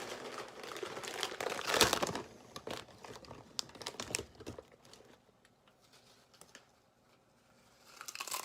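A bag of nacho cheese Doritos crinkles and rustles in bursts, loudest early on, then quieter intermittent crackles with a fresh crumple at the end, close up with no talk.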